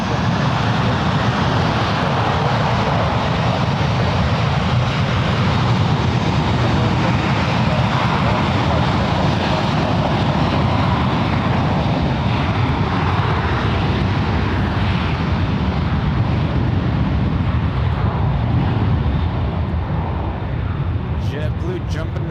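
Jet airliners taking off at San Francisco International Airport, a loud continuous broadband engine roar that holds steady for the whole stretch, with a faint voice underneath.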